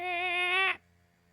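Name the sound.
cat meowing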